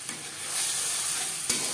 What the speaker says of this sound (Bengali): 15-20 সেকেন্ড 5 ফোড়ন ভেজে নেওয়ার পর দিয়ে দেবো আদা, কাঁচা লঙ্কা ও টমেটোর পেস্ট